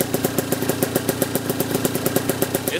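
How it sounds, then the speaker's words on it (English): A two-stroke motorcycle engine idles steadily up close, its rapid, even popping pulses repeating without a break. "But she's idling perfect."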